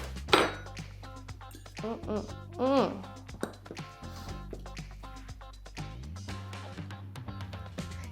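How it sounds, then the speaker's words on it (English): A knife works through a slice of honey baked ham with a brown sugar crust on a holiday serving plate, making soft scrapes and several sharp metallic clinks against the plate, close and fairly quiet. "I'm gonna cut myself a little slice."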